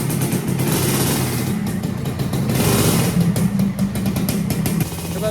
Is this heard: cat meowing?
no